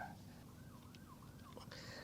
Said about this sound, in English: Now there's a siren over there.